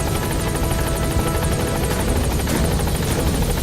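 In Metal Gear Solid V, an enemy helicopter roars loud and close with a steady rotor thrum and engine whine that holds throughout, unbroken by speech.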